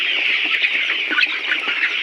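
A crowd of layer pullet chickens clucking and chirping together inside a poultry farm house at feeding time, a dense, continuous chorus of overlapping calls close by.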